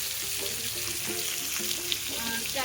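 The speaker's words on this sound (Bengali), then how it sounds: "চিনি আর টমেটোটা একসাথে ভাজা হয়ে যাবে" Tomato and sugar fry together in oil for a vegetarian dish, a steady, close sizzle with faint soft clinks and stirring, with some voice-like tones mixed in.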